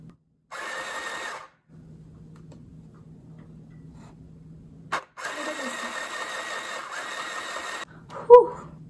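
A mini electric sewing machine driven by a foot pedal runs in two close, loud whirring bursts separated by a quiet low hum, ending with a short click and a brief rattle.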